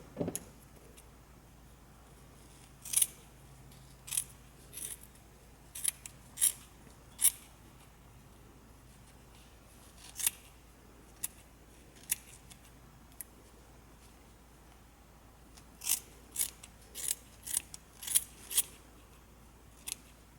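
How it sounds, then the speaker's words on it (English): Scissors snip through yarn loops while a small crocheted gnome ornament is finished, giving sharp, close metallic clicks in scattered single cuts and quick bursts with quiet pauses between them. "And now let's go ahead and cut these loops."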